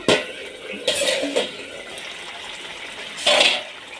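Water is poured into a cooking pot with potatoes and drumsticks, splashing in short bursts among clinks of metal cookware, and then a lid settles on with a brief rattle.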